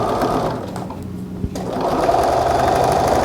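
A sewing machine runs fast and close, stitching a coat seam flat, with a brief pause near the middle before the steady mechanical whir resumes, loud and alone.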